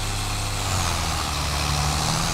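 An overloaded tractor engine in Farming Simulator 22 drones low and steady, a heavy continuous rumble that stays loud and close throughout with no voices.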